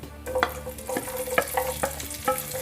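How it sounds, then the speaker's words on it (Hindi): Roughly chopped medium onion frying with cumin seeds in a pan, a steady close sizzle broken by repeated scraping stirs of a spoon. "अब प्याज को हमें जब तक फ्राई करना है जब तक इसका कच्चापन नहीं निकल जाता"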